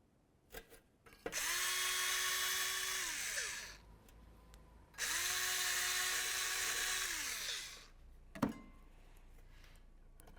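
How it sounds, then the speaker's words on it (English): A bore brush driven by a power tool cleans the slider ports of a front brake caliper on a 2002-2006 Honda CR-V, with two whirring bursts of a few seconds each and a sharp knock after the second. "We'll use a bore brush."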